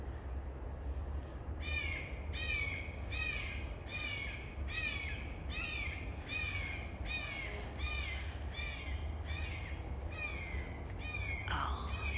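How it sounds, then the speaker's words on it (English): A hawk calls from high overhead outdoors on a hike, about a dozen repeated harsh, screechy cries in an even series, fairly clear above a steady background hiss, with no talking. "Hear that? I think that's one of the hawks."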